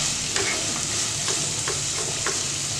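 Mutton white kurma base sautéing in a pan with a steady hiss and sizzle, broken by several soft scraping stirs at irregular intervals, close and moderately loud with no talking.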